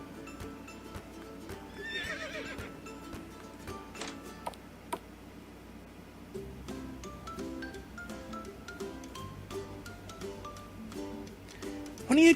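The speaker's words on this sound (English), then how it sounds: "Oh, hello, horse." A horse in an indie RPG Maker video game whinnies briefly early on, with clip-clop hoofbeats and quiet ticking game sounds continuing faintly over a soft background tune.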